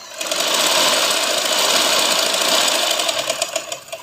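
A sewing machine runs steadily, stitching elastic into a ladies' lehenga, a close continuous whirring hum that eases off slightly near the end.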